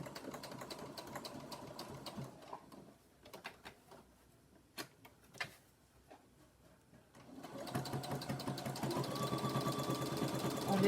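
A domestic sewing machine stitches a seam along the bottom edge of a homemade fabric face mask, starting quietly with scattered clicks before a loud, sustained run of fast stitching up close.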